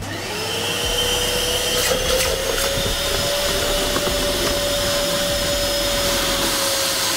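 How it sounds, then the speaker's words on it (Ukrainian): A loud, steady Ronix construction vacuum motor drones with a high whine, with a gurgling, slurping rush as water is drawn in. "давайте попробуємо, як пилосос буде справлятися з водою, як він її буде качати"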